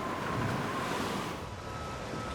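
Ocean waves in a storm battering a bulk carrier at sea, a continuous faint roar of surf and wind with a low whistling tone running through it.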